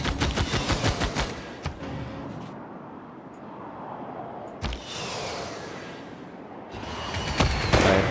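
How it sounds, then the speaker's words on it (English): Bombardment in Civilization 6 with Warhammer units: a rapid burst of loud cannon-like shots opens, a long rumbling wash of impacts follows, and another heavy barrage hits near the end. "Begin our bombardment."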